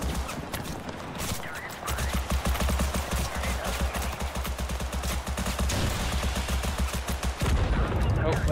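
Rapid gunfire crackles through a tank battle in the video game Total Conflict Resistance, steady bursts running nearly nonstop with heavier thuds underneath, loud and close throughout.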